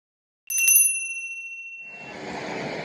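A workout timer bell rings once at the start of a circuit section, a bright, clear metallic ding with a ringing tail that fades over about a second, followed by steady broadband background noise.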